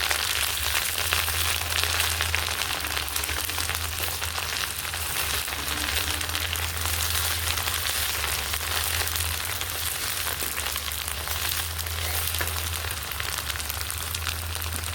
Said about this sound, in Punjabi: ਜੀਰੇ ਦੇ ਵਿੱਚ ਹੁਣ ਅਸੀਂ ਪਾ ਦਾਂਗੇ ਜਿਹੜਾ ਕਿ ਅਸੀਂ ਕਰੇਲੇ ਛਿੱਲੇ ਸੀ ਇਹਨੂੰ ਭੁੰਨ ਦਾਂਗੇ